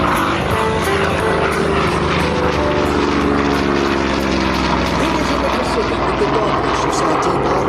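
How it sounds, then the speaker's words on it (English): Piston-engine propeller aircraft at an airshow, P-51 Mustangs passing overhead with a B-17 bomber below, a steady loud droning roar with shifting engine tones that fills the whole stretch, with faint voices in the crowd. "The P-51 Mustangs above, the B-17 below."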